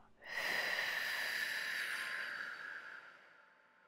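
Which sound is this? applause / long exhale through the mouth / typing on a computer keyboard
long exhale through the mouth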